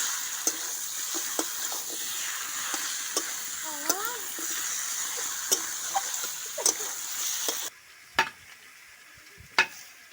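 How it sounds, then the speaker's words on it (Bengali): Marinated country chicken stir-fries in spice paste in a pan, giving a steady close sizzle punctuated by sharp clicks and scrapes of stirring; the sizzle drops quieter toward the end. "এবার মাংসটা ভালো করে কষে নেব।"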